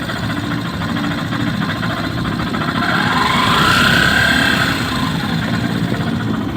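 A Yamaha YTX 125 motorcycle engine with a fault that keeps it from revving up idles loudly and close, with a steady, unbroken rumble and a constant mechanical hum.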